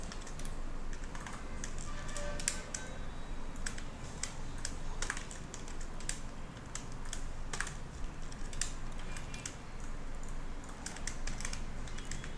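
Steady keystrokes on a computer keyboard while entering text and picking a font for an Instagram carousel cover design, a continuous run of close, crisp clicks over faint background hiss with no talking.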